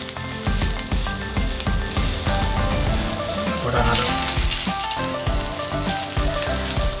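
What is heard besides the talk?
cabbage dumplings sizzling in oil in a pan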